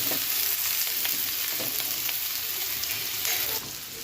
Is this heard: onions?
yes